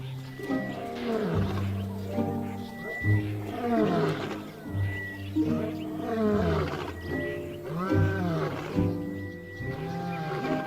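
Lions of the Nsefu pride roar in a deep, repeated series of grunting calls, several animals overlapping at moderate distance in an open river setting, with a narrating voice faintly under them.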